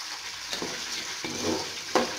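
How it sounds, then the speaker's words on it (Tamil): Garlic and curry leaves sautéing in coconut oil, a soft close sizzle with a few brief stirring scrapes over about two seconds. "நல்லா வதக்கிக்கோங்க"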